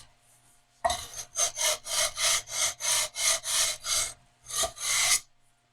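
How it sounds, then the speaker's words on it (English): Strokes of 600 grit sandpaper glued to a maple block, rubbed back and forth over guitar frets: about a dozen close, rhythmic rasping passes, a short pause, then two more strokes, with no talking. "I glued some 600 grit sandpaper on it. So I'm just gonna try and go at this."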